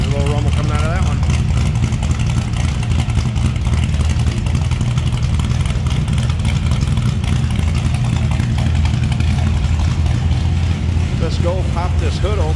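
A 1955 Dodge Coronet two-door sedan's 440 Magnum V8 idles with a steady, low, continuous rumble close by, with faint voices in the background.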